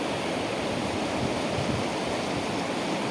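Loud, continuous roar of rushing water at the Jigaon dam, a dense unbroken wash that stays constant throughout with no voices.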